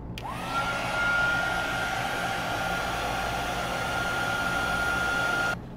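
A heat tool blows continuously to melt embossing powder on stencils, a steady close whoosh with a high motor whine that starts and stops abruptly, with no voices.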